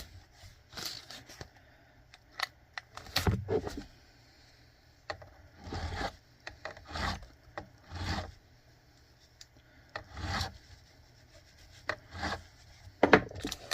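Metal file scraping along the rough fret edges of a cheap bass guitar neck, a series of short rasping strokes in uneven bursts, close and moderately loud, with no talking.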